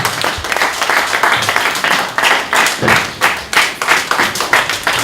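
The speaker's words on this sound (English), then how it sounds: "All round of applause for our speaker." Audience applause at a civil development meeting in Lagos, a dense burst of many hands clapping that swells and pulses steadily for several seconds, close and loud with no speech over it.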